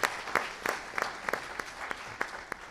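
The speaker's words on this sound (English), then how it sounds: "so let's give him a round of applause." Scattered hand claps from a small audience at a Vegas Chamber childcare symposium welcome moderator Paul Moradkin, about a dozen fairly faint, evenly spaced claps over a quiet room.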